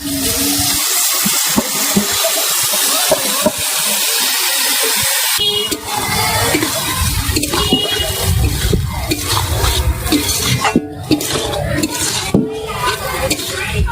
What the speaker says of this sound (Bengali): চাল ও ডালটা ভালো করে ভাজা হয়ে গেছে